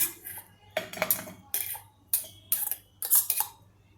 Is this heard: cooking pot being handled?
yes